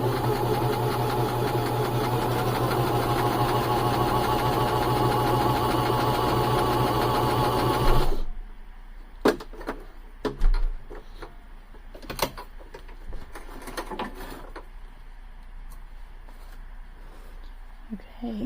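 Home sewing machine stitching through quilting fabric for a log cabin square, a steady loud mechanical whir for about eight seconds that stops abruptly, followed by faint handling clicks and rustles.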